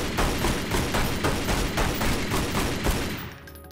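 Rapid gunfire aimed at a wall in the Relic Hunter video game, a dense, evenly spaced burst of shots that is loud and close and stops abruptly near the end.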